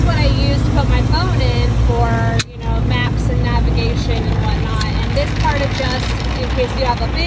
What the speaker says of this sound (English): Oh, this is a loud car wash.